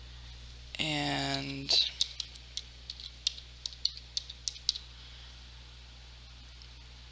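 A computer keyboard typing a signature: a short spoken word, then a string of light, separate key clicks tapping out at an uneven pace, quiet and close.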